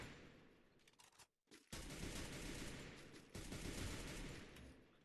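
Gunfire in a shooter video game, dense rapid bursts of automatic shots close and loud, broken by a brief silent gap before the firing resumes steadily.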